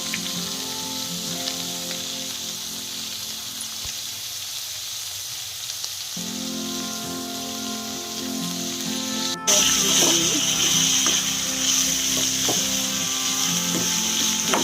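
Onions frying in a pan for a rice dish, a steady crackling sizzle with no talk, growing louder and busier about two thirds through as more goes into the hot oil.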